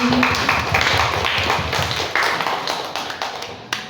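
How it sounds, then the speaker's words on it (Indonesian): An audience claps for a speaker after a talk, a room of people clapping in uneven, lively bursts that taper off toward the end, fairly close and clear with little talk. "Tepuk tangan untuk Ibu."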